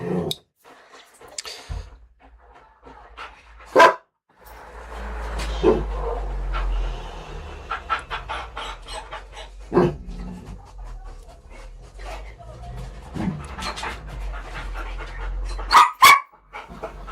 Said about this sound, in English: there goes the other dog